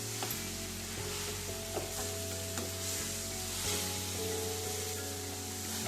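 Jaggery melts in a pan for a grated coconut modak filling as it is stirred, giving a continuous soft sizzling hiss with faint stirring scrapes over a low steady hum.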